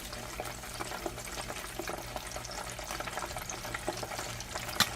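Skinless kielbasa sausage cooking in a pan of hot grease, a steady fine crackling sizzle with scattered pops, moderately close and even throughout, no talking.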